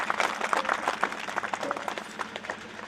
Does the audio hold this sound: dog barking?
no